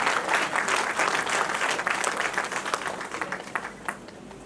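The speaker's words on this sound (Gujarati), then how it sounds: "એમના સ્વાસ્થ્ય માટે પણ જોરદાર તાળીઓ થાય" An audience at an inaugural function claps loudly for an 82-year-old guest, a dense burst of applause that stays strong before gradually thinning toward the end.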